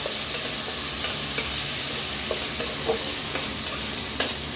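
Onions fry with a steady broadband sizzle in a pan while a spoon stirs them, scraping in soft, regular strokes close by. No one speaks.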